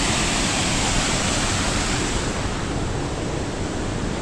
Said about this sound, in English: I think this is waterfall number 2 now.